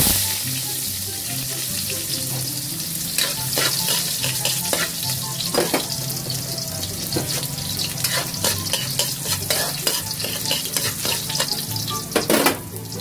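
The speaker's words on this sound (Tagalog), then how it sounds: "Ilalagay ko na yung ating bawang." Garlic sizzles steadily in hot oil in a pan for small shrimp guisado, a loud continuous frying hiss with scattered sharper crackles and stirring clatter, with no talk.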